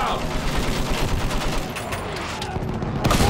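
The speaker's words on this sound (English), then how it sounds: "Use that machine gun. Mow them down." Sustained machine gun fire in the World War I shooter Battlefield 1, a dense, loud, continuous rattle of rapid shots with battlefield noise and a burst of other gunfire near the end.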